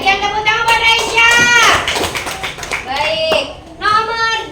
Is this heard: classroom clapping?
yes